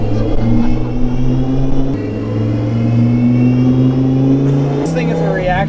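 Lamborghini engine revving through a modified exhaust, a loud, close, sustained droning rev that rises in pitch in steps, with people talking over it.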